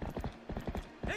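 Galloping horse hooves in the video game The Legend of Zelda: Twilight Princess, with rapid clip-clop beats in quick bursts at close range and a brief whinny near the end.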